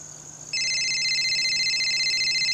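A telephone rings with a steady electronic trill, starting faintly, then jumping to a loud, continuous warbling ring that holds for about two seconds over a low hum, with no talking.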